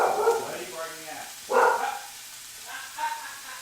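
A dog named Millie barking indoors in a home kitchen, three separate barks spaced about 1.5 seconds apart, fairly close, with a yip-like tone and a person talking nearby.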